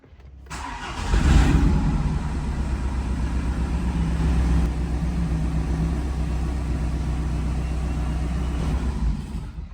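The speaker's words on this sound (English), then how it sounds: "it's time to go and grab the key and start this car up" A BMW E92 Alpina coupe, rebuilt after catastrophic engine failure, cranks and fires into a loud close idle, the revs swelling briefly around the start and again mid-clip before settling into a steady, rumbling run.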